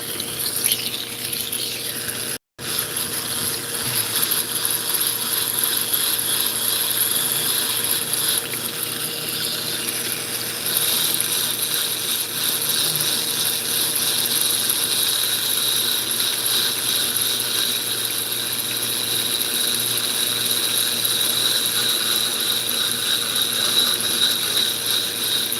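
A Nova lapidary machine fitted with a 280 grit point burr grinds and contours a concave area on fire agate under running water, giving a steady, continuous whirring and grinding hum that stays close and loud throughout, with only a momentary break.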